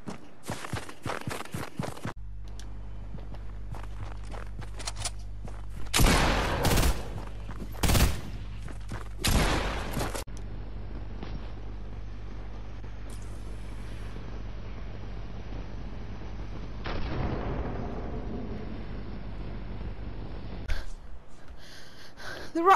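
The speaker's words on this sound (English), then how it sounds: "The rocket! It's hitting our defenses!" Rocket strikes and gunfire in Fortnite: sharp bursts of blasts and shots hit in clusters over a low rumbling drone, with quieter stretches between, and no talking.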